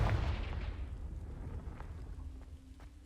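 A Confringo fire spell explodes in Hogwarts Legacy. It opens with a loud, deep blast that rolls off into a long rumbling decay, and faint crackles follow.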